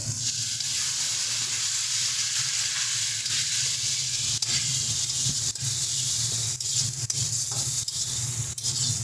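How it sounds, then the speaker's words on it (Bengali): Steady, loud sizzling of spice masala frying in a pan for a raw banana curry as tomato paste is added, with a few sharp clicks of stirring near the end. "মশলা সুন্দর মতন কষানো হয়ে গেছে। দিয়ে দিচ্ছি টমেটোর পেস্ট।"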